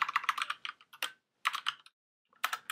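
Quick bursts of keystrokes on a computer keyboard, tapped in short irregular runs separated by brief pauses, close and clear with no voices.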